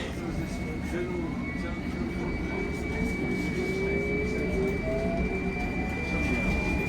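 A London Underground Circle or Hammersmith & City line train pulls away in a steady, loud rumble with rising whine tones, continuous throughout.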